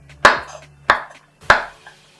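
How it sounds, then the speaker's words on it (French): A knife chops garlic on a board in three sharp, evenly spaced strikes, each a crisp close thud with a short ringing decay, loud against near silence. "Nous allons continuer en découpant l'ail."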